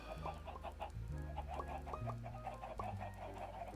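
Chickens in Minecraft Sky Factory 3 cluck in short, irregular bursts over low, droning background music, moderately quiet and with no talk.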